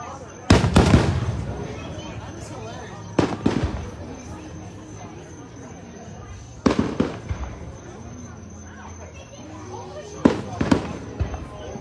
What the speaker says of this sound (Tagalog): Mahal din ang fireworks na ganyan.